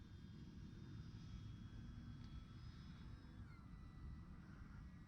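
An Arrows Technam RC model airplane flies overhead during a fast low pass, its steady engine drone sitting under broadband wind noise for the whole stretch, with a faint rising whine partway through.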